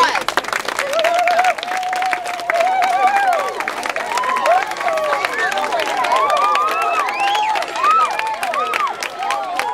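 An audience applauds a group of touring schools being presented with a $200 donation, steady clapping and cheering filling the whole stretch with crowd voices chattering over it.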